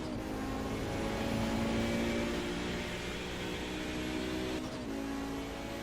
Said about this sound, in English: Just listen to this fantastic 5-cylinder engine.